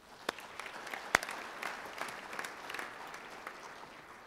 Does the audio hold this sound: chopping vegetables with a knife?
no